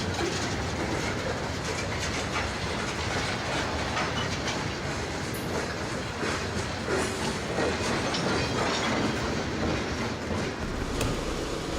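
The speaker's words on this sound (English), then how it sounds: "You'll notice that there's also a Union Pacific coal train here" A Union Pacific coal train runs on a model railroad layout with a steady rumbling clatter and rolling wheel noise. The sound carries on unbroken throughout, fairly close, with no voices.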